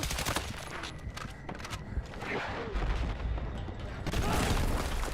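A grenade goes off in a Battlefield 6 match amid steady gunfire and battlefield noise, with a heavy low rumble swelling near the end; continuous and loud throughout.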